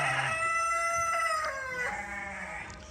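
A rooster crows once in a long, strained call, fairly near, with faint clucking in the background.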